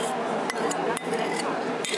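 Hair colour being mixed in a bowl at a salon, a continuous scraping and clinking of a brush or spatula against the bowl with a few sharper taps, fairly close.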